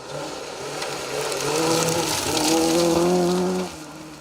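A Peugeot 205 rally car at speed on a rally stage, its engine loud and close, rising in pitch as it revs and passes, then dropping away near the end.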